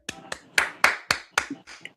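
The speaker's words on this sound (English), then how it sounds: "That sounds like wet hands clapping" Applause effect played from a sound button: about seven sharp, evenly spaced hand claps, close and dry, with no crowd behind them.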